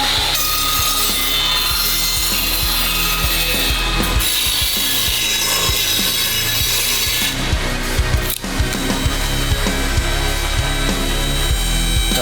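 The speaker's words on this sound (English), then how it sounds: "So we're starting the bend, starting at 40 degrees" A tube bender works a length of steel tubing, giving a continuous loud grinding, ratcheting mechanical noise with a brief dip partway through, close up and without talk.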